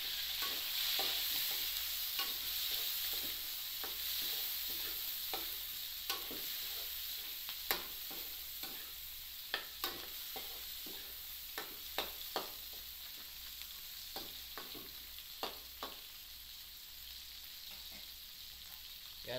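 Garlic, onion and chili sizzle steadily in hot fat with pork jowl, a continuous frying hiss broken by frequent sharp scrapes and taps of a spoon stirring the pan.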